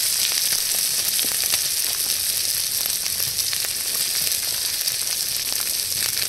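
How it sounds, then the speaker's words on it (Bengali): Cumin, coriander and turmeric powder with ginger paste sauté in hot oil with a loud, continuous, close sizzle and faint occasional stirring, no talking. "মশলাগুলো কষিয়ে নিয়েছি"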